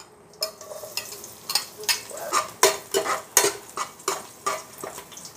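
Chopped onion drops into hot cooking oil in a pan for a Tausug beef dish, and a spoon stirs and scrapes it in a quick series of sharp clinks and rustles over a soft, close sizzle.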